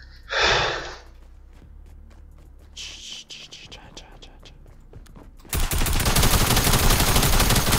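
Gunfire in Fortnite Creative mode: scattered shots early on, then a dense, loud, sustained burst of rapid fire at the end, with breathy talking and whispering in between.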